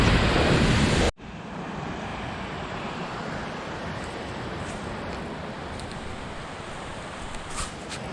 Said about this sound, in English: there's just waterfalls on either side of me, just trickling down the rocks